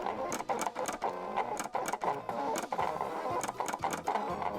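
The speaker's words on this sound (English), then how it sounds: "In my case, I used a cutting machine my girlfriend has," An electric cutting machine slicing paper templates for Halloween crafts, a steady close mechanical whir with rapid rhythmic stuttering as the blade carriage moves back and forth.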